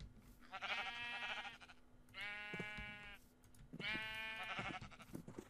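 Three loud, wavering bleats from a sheep in a farming survival video game, each about a second long and separated by short pauses, with small clicks and shuffling noises between them.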